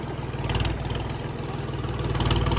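A tractor's engine runs steadily at a low, even throb while the tractor is driven and put into reverse gear, loud and close throughout with no talk.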